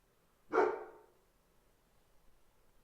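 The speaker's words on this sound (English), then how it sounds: "hanging out with my friend's dog, and he's a little reactive sometimes." A reactive dog lets out one loud, close bark that fades quickly into near silence.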